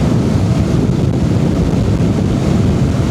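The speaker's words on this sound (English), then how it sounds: "Wind drift pulling me to the right here." Wind roars across the microphone during a motorcycle ride, a loud, steady, rumbling rush that holds without a break for the whole stretch.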